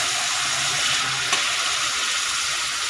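Onion sizzles steadily in hot oil while spices are tempered for a pulao, a loud, dense, continuous frying hiss with no break.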